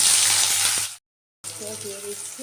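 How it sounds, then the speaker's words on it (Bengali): Onions frying in ghee for biryani make a loud, close sizzle that cuts to silence for a moment, then resumes more quietly with faint tonal sounds in the background. "ঘিয়ের মধ্যে আমি পেঁয়াজ বেরেস্তাটা করে নেব"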